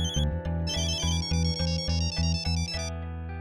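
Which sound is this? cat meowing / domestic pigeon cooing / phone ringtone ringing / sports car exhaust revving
phone ringtone ringing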